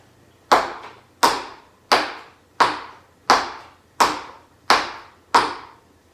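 Eight sharp, evenly spaced stamps in tap shoes strike a hard floor one after another, each a crisp loud hit with a short ringing decay, nothing else in between.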